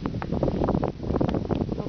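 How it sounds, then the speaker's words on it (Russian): Strong cold wind buffeting the microphone on a street in Donetsk, a loud, gusty, continuous rumble with fluttering bursts throughout. "Безумный ветер, тут холодно."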